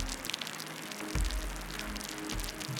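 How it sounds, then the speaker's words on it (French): Heavy, cold rain pours down over a city in a steady dense hiss, with scattered drops spattering on surfaces and a low rumble underneath. "la pluie s'abat sur la ville"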